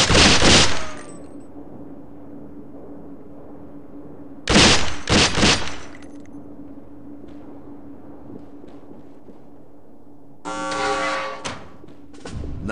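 Three rapid bursts of weapon fire on an indoor shooting range in SWAT 4, each a loud, sharp cluster of shots separated by quiet stretches with a faint steady hum.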